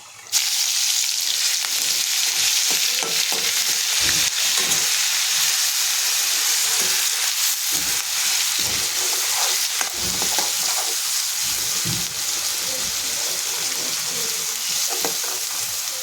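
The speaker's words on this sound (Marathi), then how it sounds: "हे वाटण आपलं छान परतलं बघा" A ground spice paste fries in hot oil with mustard seeds and cumin, sizzling steadily close by while a spoon scrapes and stirs through the pan in repeated strokes.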